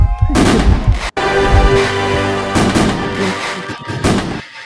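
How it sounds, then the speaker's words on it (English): Fireworks sound effect played as a celebratory cue, a loud dense burst of booming bangs and crackle lasting several seconds with a brief gap near the start, no voices over it. "Give her some fireworks."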